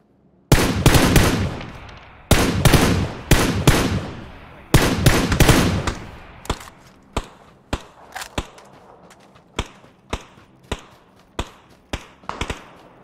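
Gunfire in the PUBG battle royale game: several dense automatic bursts, then a slower string of single sharp shots spaced about a second apart, loud and close with no talking over them.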